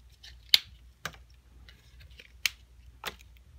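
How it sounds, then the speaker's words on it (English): Tags being ripped off small toy bunnies for an Easter basket: four sharp, separate snapping tears spread over a few seconds, each a brief close burst standing out from a quiet background hum, with no talking. "Rip off the tags."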